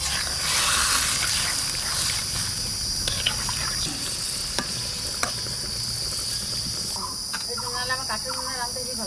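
Spice water hits hot oil in a pan of fried koi fish curry with hilsa mustard curry, a loud continuous sizzle with crackles and spatters, close and steady.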